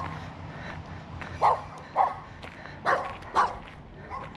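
A small dog gives four sharp barks in an uneven rhythm against a steady outdoor background hum, fairly close but not loud.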